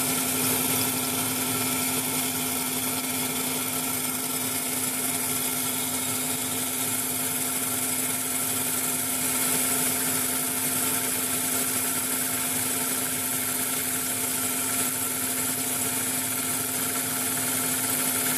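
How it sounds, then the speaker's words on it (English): A milling machine spins a fly cutter at high RPM, taking a light cut across metal trigger frames: a continuous loud whirring drone with a steady hum and no pauses. "The machine's actually running quite quickly, at quite a high RPM compared to what I normally use."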